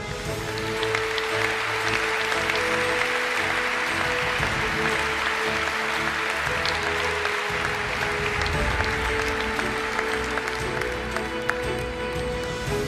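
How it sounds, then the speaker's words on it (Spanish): A large crowd at a national canoeing awards gala gives sustained, loud applause, thick continuous clapping filling the hall from start to finish with no speech on top. "y un aplauso fuerte para ellos"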